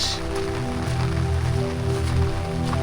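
Steady rain falls with wind in a lonely hill area of Banshkhali, Chattogram. The wash of rain is dense and constant, with no break, and no voices are heard.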